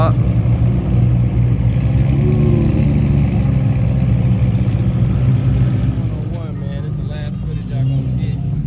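A McLaren sports car at a car meet runs its engine loud and near, with the revs rising and falling over several seconds before easing into a lower idle. Voices talk over it.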